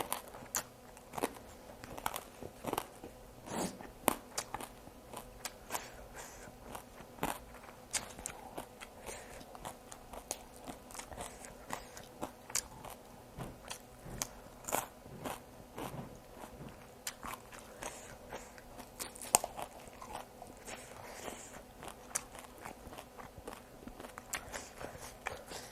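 Crunchy, close bites and chewing of papaya salad with noodles and vegetables, repeated irregular crisp crackles and mouth sounds over a quiet background across a long stretch with no talking.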